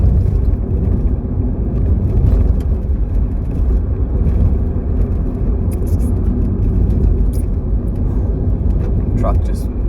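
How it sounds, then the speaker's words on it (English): A truck drives past on a rural road near Cobbity, New South Wales, a steady close rumble with a low engine drone, and a voice speaking over it. "Truck just hugging that line there."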